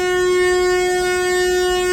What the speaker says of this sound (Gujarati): જોઈ શકો છો ખૂબ જ લાંબી ટ્રેન છે અને એનું સાયરન વાગી ગયું છે